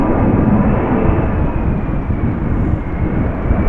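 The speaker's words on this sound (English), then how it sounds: "Embraer 190 from Nuremberg to Amsterdam, going around." Embraer 190 jet going around at Amsterdam Schiphol during Storm Pia, a steady loud roar of engines holding throughout with no talk.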